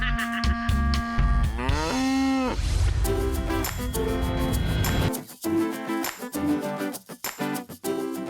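Cattle in a New Zealand field moo loudly several times in long, drawn-out calls at close range, with a few shorter bellows following and no talking over them.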